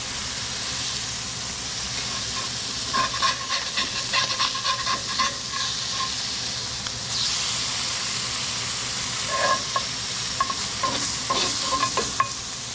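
Sheepshead fish frying in a pan, a constant loud sizzle and hiss with spattering crackles and pops that flare up midway and again near the end.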